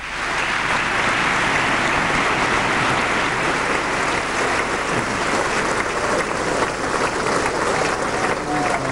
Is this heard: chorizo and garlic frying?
no